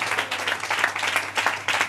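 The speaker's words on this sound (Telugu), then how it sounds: "చప్పట్లు కొట్టండి" A church congregation claps hands at a Pentecostal annual convention, a steady ragged patter of many hands close by, continuous for a couple of seconds with no talk over it.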